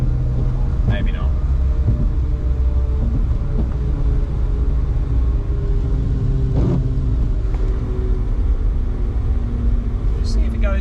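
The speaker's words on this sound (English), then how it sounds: "It's downshifting on its own." A BMW 135i with an N54 engine and a converted 8HP45 automatic gearbox drives steadily, its low engine and road drone continuous throughout as the transmission shifts down by itself, with brief faint knocks and clicks inside the cabin.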